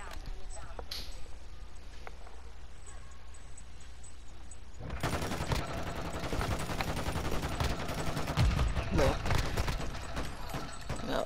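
Sustained rapid fire from a light machine gun shooting flaming bullets in Call of Duty: Modern Warfare II, breaking out after a quieter stretch into a loud, dense stream of shots with scattered impacts.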